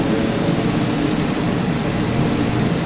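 An airliner taxis in Microsoft Flight Simulator 2020, giving a continuous, even jet-engine roar with a broad rushing hiss and a low rumble that stays constant throughout, with no speech.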